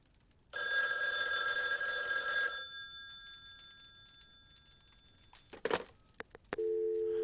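A telephone rings in the Friday the 13th: The Game virtual cabin, one long loud bright electronic ring lasting about two seconds, followed by quiet and a few faint clicks and a short tone near the end.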